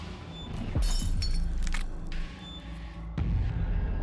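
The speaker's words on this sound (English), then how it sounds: "The window shatters" Window glass shatters with a loud crash in a horror video game, followed by scattered tinkling shards and a second heavy impact near the end.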